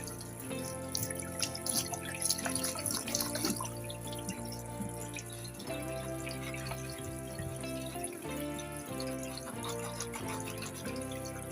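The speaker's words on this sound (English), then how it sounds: "now we're washing the peanut butter out of it." A sponge is washed out under a running tap with washing-up liquid to clear peanut butter in a caravan sink, a steady close stream of water with splashing and squelching, no voices.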